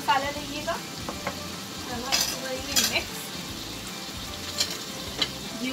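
Mutton karahi masala frying in ghee, a steady close sizzle with scattered spoon-stirring clinks and scrapes against the pot.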